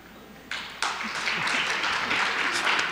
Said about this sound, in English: You just clapping because you didn't pay for it